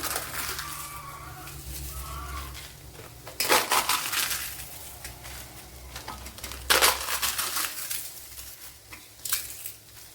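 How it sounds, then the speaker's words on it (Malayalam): Three crisp pappadams are snapped and crumbled into a pan, giving three separate sharp crackling crunches spaced a few seconds apart, close and clear against a quiet kitchen background. "ഇനി ഇതിലേക്ക് ഈ മൂന്ന് പപ്പടം പൊളിച്ചിട്ട് കൊടുക്കാം"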